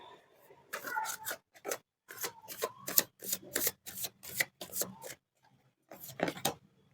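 Tarot cards are shuffled and drawn, producing a quick series of crisp rubbing and rasping card slides in irregular bursts, close and fairly quiet, with short pauses between strokes.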